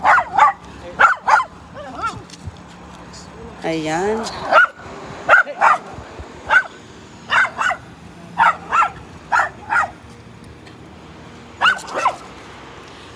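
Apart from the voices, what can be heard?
dog barking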